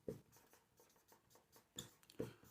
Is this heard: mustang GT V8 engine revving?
no